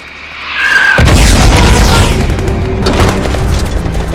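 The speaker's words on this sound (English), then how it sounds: "Guys, is that a mortar? Mortars incoming." Mortar rounds exploding in a film battle scene, a heavy close boom erupting after a brief rising whine, followed by sustained loud rumbling blasts and debris.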